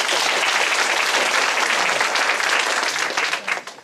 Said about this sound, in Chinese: 拍手一个。